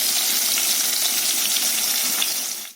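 Katla fish fries in a pan with a steady, dense sizzle that holds evenly close-up for the whole stretch, no talk over it.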